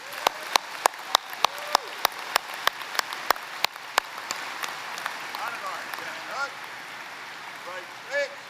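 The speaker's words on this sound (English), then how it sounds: "Let's give them another round of applause." Audience applause at a Veterans of Foreign Wars business session honoring the honor guard, with sharp, distinct claps in the first few seconds that thin into a softer patter, while a voice and other room sounds carry underneath.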